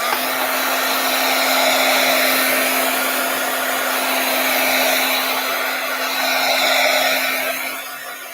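A hair dryer blows steadily and loudly at close range for several seconds while drying a dendritic print for a Christmas card, a continuous whooshing roar with a faint hum, easing a little near the end.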